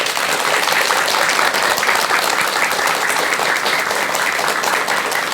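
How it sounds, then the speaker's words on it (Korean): A studio audience gives a monk speaker a big round of applause after a Buddhist talk on raising happy children, sustained even clapping from many hands, loud and close, with no talk. "스님께 여러분 큰 박수 부탁드립니다"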